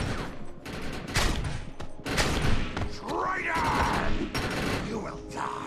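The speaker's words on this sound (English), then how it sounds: "A few guys are shooting outside." Gunfire in the video game Defiance, dense fusillades and rapid shots with thuds and booms, loud and continuous, with a voice talking over it.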